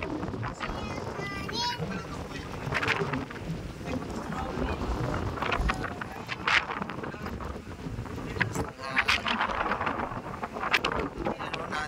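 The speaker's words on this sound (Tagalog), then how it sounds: "Ang lakas ang hangin." Strong wind in Mindoro, Philippines, buffets the microphone in a constant roar, with people talking intermittently underneath and gusts rising and falling throughout.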